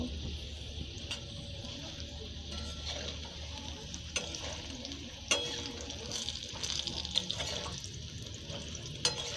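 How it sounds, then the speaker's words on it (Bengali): Black cumin seeds and bay leaves fry in hot oil, giving a soft, continuous sizzle close by with scattered pops and scraping stir sounds, fairly quiet throughout. "এরপর আমি সামান্য কালা জিরে দিয়ে দেব কালা জিরা তেজপাতাগুলো ভালো করে ভেজে নেব"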